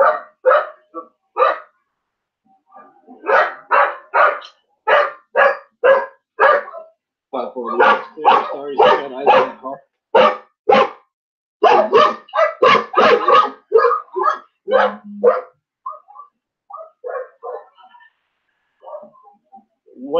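Several dogs bark in rapid repeated bursts, loud and close, with yips and whimpers between volleys, while someone speaks briefly over them during a police response.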